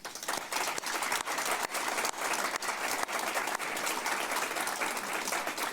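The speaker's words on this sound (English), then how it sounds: "So please join me in acknowledging and applauding Carol for her dedication to Livingston Count" An audience at an economic development council's annual meeting applauds, a dense, steady wash of many hands clapping that holds at even loudness for several seconds with no talking.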